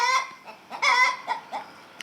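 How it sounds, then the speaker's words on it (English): Backyard chickens cluck and squawk in a garden near a bench, a few short bursts of clucking at close range, with quiet pauses between calls. "The chickens like to come and see Miss Howells and I if we're having a cup of tea on the bench in our garden"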